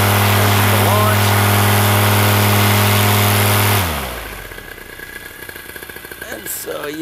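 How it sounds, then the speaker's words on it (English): A paramotor engine roars at full throttle, loud and close, with a steady, dense drone that cuts abruptly to a lower, rattling idle partway through. "Runner up to full throttle. Make sure the fuel is flowing perfectly before you go"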